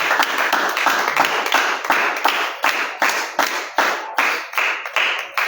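A church congregation claps in unison to acclaim the Lord, a steady rhythmic beat of about two claps per second, loud and close, with no talking.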